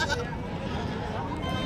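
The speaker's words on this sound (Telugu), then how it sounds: "ఇక్కడ కొన్ని పొట్టేలు ఉన్నాయి" Rams bleating at a crowded livestock market in Andhra Pradesh, close and fairly loud, with people talking in the background throughout.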